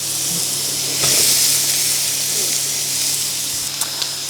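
Chorizo and onion hit hot olive oil in a pan, giving a bright, steady hissing sizzle that swells as they go in and then settles into a continuous fry with a few small crackles.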